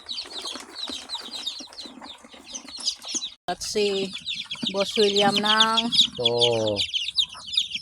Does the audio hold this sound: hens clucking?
yes